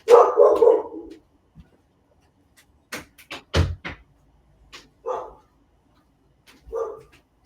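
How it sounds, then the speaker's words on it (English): Dogs barking indoors at home, a few loud sharp barks near the start, then scattered shorter barks and yips with pauses between them, close by and with no voices. "I forgot about dogs."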